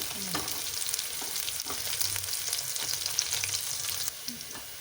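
Onions frying in a pan until browned, for a tomato bath recipe: a steady, close sizzle and crackle with occasional stirring scrapes throughout, no one talking.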